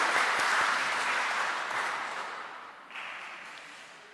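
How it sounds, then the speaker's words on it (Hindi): Loud applause from a Pakistani community audience at a Christmas celebration of an Urdu church congregation in Belgium, a dense wash of clapping that tapers off gradually before a brief swell near the end. "जोरदार तालियों के साथ, शाबाश, जोरदार"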